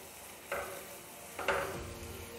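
Masala frying in oil in a pan for Rajasthani patod curry, a steady low sizzle with two soft stirring scrapes about a second apart, quiet and close.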